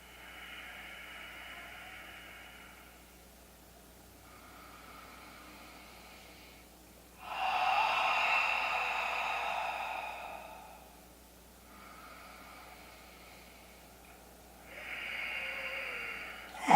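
Slow, soft breaths during a yoga practice: long airy inhales and exhales, with one louder, fuller breath in the middle, close and quiet with no talking.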